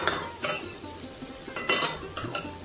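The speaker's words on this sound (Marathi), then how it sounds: "हलक्या हाताने परतायचं आहे, भात मोडला नाही पाहिजे." Rice for chitranna is gently stir-fried in a pan, with a spoon scraping and turning it in several soft bursts over a low, steady sizzle.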